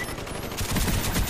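Rapid, dense gunfire in the shooter Black Ops during a Domination match, a continuous rattling burst that swells slightly louder partway through.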